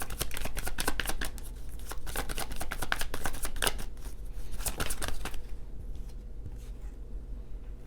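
A deck of tarot cards being shuffled up close, rapid riffling bursts of crisp flicks repeating for about five seconds before fading into quiet room tone.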